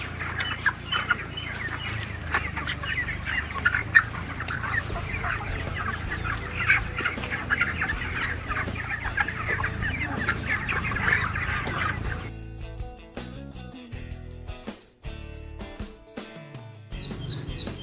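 Many chickens cluck and chirp continuously, a busy flock close by on a poultry farm; partway through the din thins out, leaving scattered clucks and clatter.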